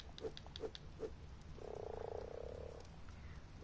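A few short, evenly spaced pops from frogs penned in the video game Ark lead into a long, rattling croak, then quieter clicks over a low background hum.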